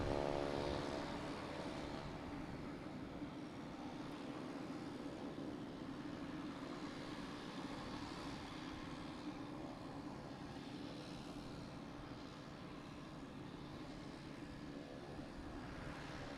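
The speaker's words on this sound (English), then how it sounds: "we have a plane here landing 3-3L" A plane lands on runway 33L at Boston Logan Airport, heard as a steady, distant engine rumble. The rumble is faint and continuous across the whole stretch, with no talk over it.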